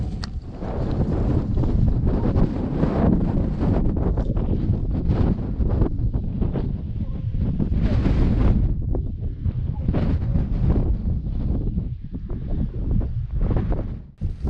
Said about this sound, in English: Kind of cold and windy up here on top.